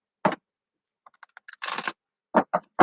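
Cards shuffled for a tarot-style reading, heard as a few crisp isolated taps, a short riffling burst in the middle, then three sharp snaps close by with no talk.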